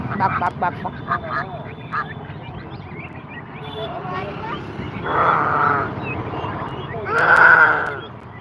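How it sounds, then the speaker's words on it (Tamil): A duck quacks in short rapid bursts at first, then louder drawn-out calls rise later, with voices talking in the background at a village market. "எப்படி கத்துது வாத்து"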